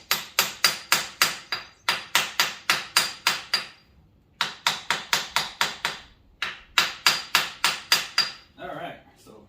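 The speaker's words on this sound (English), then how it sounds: "I have to tap it in because it's a really tight fit" A tight-fitting seal being tapped into place with a hammer: steady runs of crisp metallic taps in quick, even rhythm, close and loud, broken by short pauses between bursts.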